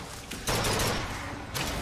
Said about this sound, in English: Will you stop shooting me for a second?